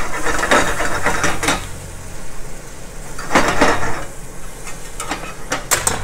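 A shrimp and broccoli sauce being stirred in a pan, with a few scraping sweeps of the utensil against the pan over a soft sizzle, close by and without talk.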